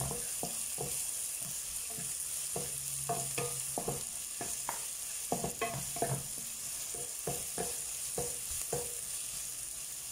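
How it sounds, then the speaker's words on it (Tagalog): Chopped onions sauté in a hot pan, a soft steady sizzle broken by repeated close scrapes and clicks of a spoon stirring, with no talking. "Lutuin natin medyo yung ating sibuyas para yung amoy, diba?"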